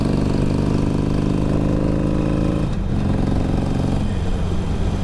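A Harley-Davidson 883 Sportster idles with a loud, deep, lumpy exhaust rumble that shifts briefly midway and then settles, close and continuous, with no talking.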